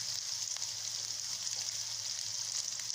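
Garlic and onion sauté together in hot oil for fried rice, a steady, even sizzling hiss with no pauses, moderately close and without talk.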